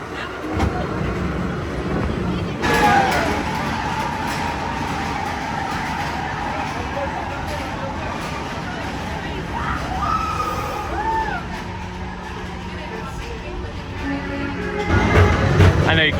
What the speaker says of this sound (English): I think you can hear Space Mountain and the cars and the screaming going by